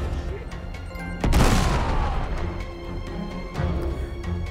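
A grenade detonates in the Uncharted 3 shipyard battle, one loud booming blast with a crackling, debris-filled tail that fades over a couple of seconds amid ongoing game noise.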